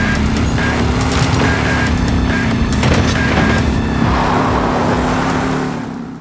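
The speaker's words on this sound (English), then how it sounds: "It gives you the ability to make all sorts of car sounds, cars flying by, truck sounds, everything" Synthesized car sound effect built in Krotos Igniter: a loud, steady engine drone with passing-vehicle roar, sustained for about five seconds before easing off at the end.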